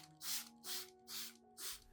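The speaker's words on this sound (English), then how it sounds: "gently spray evenly onto the leaves, stems, and root areas of the hydroponic orchids" Four short hissing sprays from a spray bottle misting hydroponic orchid leaves, evenly spaced, close up, with quiet pauses between.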